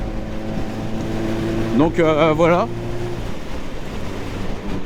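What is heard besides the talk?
Suzuki GSX 1200 Café Racer motorcycle engine running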